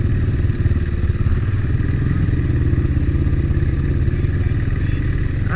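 A Renegade XXC 1000 ATV riding along a ridge in winter in Kansas, its engine a loud close rhythmic throbbing rumble held steady, with occasional clatter of the machine over rough ground.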